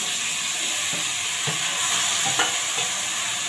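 Onion and tomato sizzle steadily in a pan for a Marathi-style tomato vegetable dish, with a constant frying hiss and a few soft stirring knocks, close and alone with no talk.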